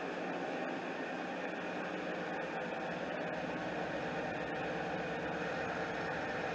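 A 1994 Cadillac DeVille with its 4.9 engine idles in a smooth, steady, quiet hum that holds unchanged throughout, with no voices.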